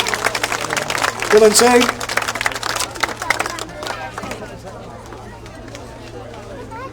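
Brief applause and cheering from a crowd at a police public disorder demonstration and open day, peaking early then fading into hubbub while a voice speaks over it.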